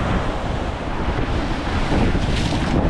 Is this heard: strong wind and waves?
yes